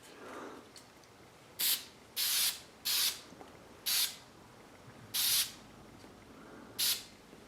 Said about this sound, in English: Spray that on there.